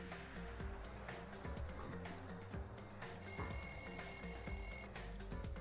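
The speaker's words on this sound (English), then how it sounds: "The lounge's wall clock alarm started ringing at 5:30." In the Danganronpa 2 video game, a wall clock alarm in the lounge rings with a steady, piercing electronic tone for a second or two, layered over busy game music that plays throughout.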